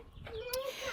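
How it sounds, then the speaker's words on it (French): Hens in a backyard coop enclosure with a fenced gate make a short burst of soft clucking, close by, with a brief sharp high note partway through. "on a une poupoule qui essaye de se sauver là"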